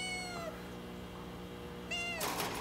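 A rescued stray kitten gives two faint, high, drawn-out meows, one at the start and another near the end, with quiet stretches between.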